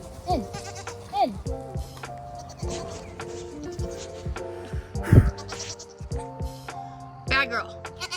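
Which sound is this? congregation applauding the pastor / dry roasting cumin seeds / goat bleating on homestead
goat bleating on homestead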